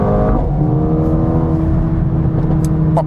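Mercedes-AMG A35 4Matic compact hatch revving, engine and exhaust rising briefly then settling into a steady, loud nearby drone, with faint crackles near the end.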